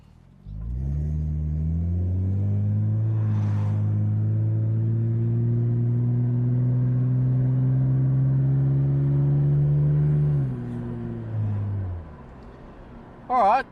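A 1998 Nissan R34 Skyline 25GT coupe engine idles with an exhaust silencer fitted, giving a steady, deep, even drone that holds for about ten seconds and then drops and fades, with no one talking.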